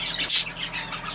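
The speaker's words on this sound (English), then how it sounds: "And so I got a nice little light green bird, split to Texas Clear Body" A light green pet bird chick squawks in its cage, giving a few harsh, close calls in quick succession.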